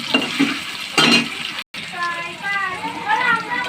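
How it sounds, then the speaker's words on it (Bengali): Spinach paste being lightly fried in a pan, with bursts of sizzling and stirring scrapes near the start, a brief dropout, then softer sizzle under a voice. "হালকা করে একটু ভেজে নিচ্ছি।"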